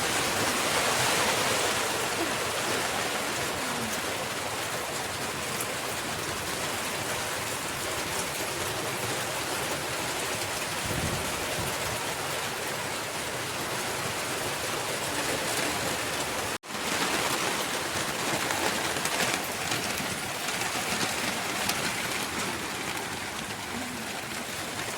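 Heavy rain pouring down outdoors, a dense, steady roar of drops on surfaces close by that keeps going for the whole stretch, with a brief break partway through and no talking.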